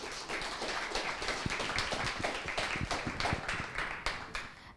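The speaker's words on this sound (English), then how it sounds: "giving a loud, hearty clap before I sit down" An audience at a community talent event applauds loudly and steadily, a dense, sustained clapping from many hands with sharp individual claps standing out throughout.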